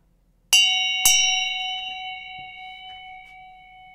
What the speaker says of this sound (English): This bell is from Tibet.